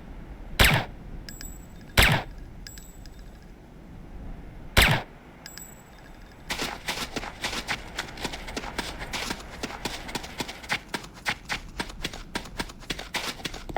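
Gunfire on a shooting-range level in the Command and Conquer Renegade video game: three loud, separate single shots, then a rapid, sustained burst of automatic fire with evenly spaced cracks running to the end.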